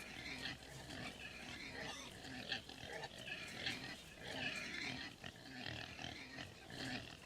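Pigs grunt and squeal in a livestock delivery trucking game, a faint, busy chorus of snorts and oinks continuing throughout against a low background rumble.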